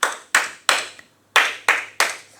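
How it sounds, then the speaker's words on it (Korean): Korean 3-3-7 rhythmic group clapping: sharp, close claps in spaced groups, with a pause between sets, crisp and loud with no talk. "337 박수라 그러죠"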